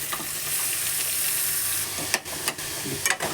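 Tomatoes dropping into a hot frying pan with a loud, steady sizzle and hiss, close up and alone, broken near the end by a few sharp crackles and stirring scrapes.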